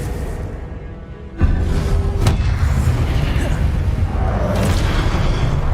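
Confringo blasting spell from Hogwarts Legacy bursts into a sudden loud boom partway through, followed by sustained rumbling crackle of combat effects.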